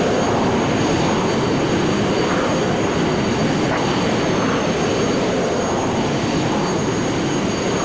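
Jet engines roar through a takeoff roll in Microsoft Flight Simulator X, a loud, dense, broadband rush that holds steady throughout with no talking.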